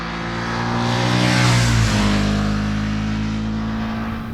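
A Ducati Monster motorcycle on its factory exhaust accelerates hard near a tunnel, the engine note swelling loud and rising through the revs before easing off, with no talk over it.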